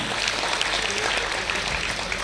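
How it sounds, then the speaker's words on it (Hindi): Audience applause during a talk with a top JEE ranker, a continuous broadband patter of many hands clapping at a steady level throughout, with no speech over it. "तालियां बजा दो एक बार फिर।"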